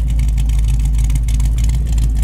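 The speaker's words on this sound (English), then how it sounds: "It's got a great brand new dual exhaust system on it" A white 1964 Chevy Nova with a brand-new dual exhaust system runs loud and close, its deep engine rumble steady and throaty throughout, with no voices over it.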